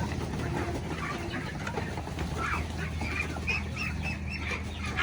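Mother ducks quacking at a duck sale, a steady flock chatter of honks and quacks at moderate distance, fairly quiet and continuous with faint background noise.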